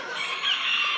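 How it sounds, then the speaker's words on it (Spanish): An exotic frizzle hen clucks among poultry at a chicken breeding farm, a steady, fairly loud cackling with no talk over it. "Aquí tengo una gallinita exótica en la parte de arriba."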